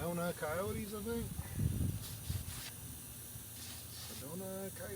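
Steady broadband hiss, likely air escaping from a punctured flat tire being plugged outdoors near Sedona, runs continuously at moderate level under a voice, with a short burst of rustling in the middle.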